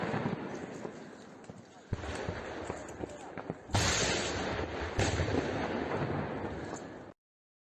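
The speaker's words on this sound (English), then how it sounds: "The Ukrainians conducted another artillery attack on Russian logistics" Artillery fire in combat footage from the Donbass: heavy, rumbling booms and sharp blasts break over a noisy background, with a loud sustained roar after one strong impact, mixed with a narrator's voice.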